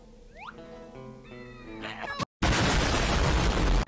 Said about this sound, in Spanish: ¡Tremenda explosión le dimos en la cara!